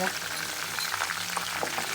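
Herbal hair oil with fenugreek seeds heats in a pan, giving a steady soft sizzle and bubbling crackle throughout, moderately close with no voices.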